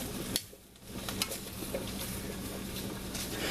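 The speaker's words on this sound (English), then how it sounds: "we don't want to blacken them, we just want to brown them a little bit" Sausages about six inches long browning in a pan give off a steady, soft sizzle, with faint stirring clicks near the start and no voices.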